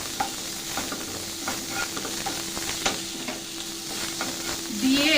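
Onion stirred with dried red chilli, coriander, cumin, garam masala and turmeric powder in a hot pan, a steady close sizzle with scraping strokes of a spoon, ending in a louder burst of frying.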